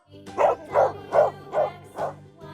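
An animated dog barks five times in an even rhythm, close and fairly loud, with short pauses between each bark.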